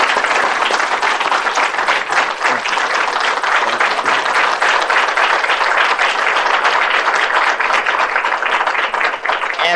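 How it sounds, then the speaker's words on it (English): Dense, loud audience applause at a Black History Month community event fills the whole stretch, many hands clapping steadily and close, with faint crowd voices mixed in. "Give them one more round of applause."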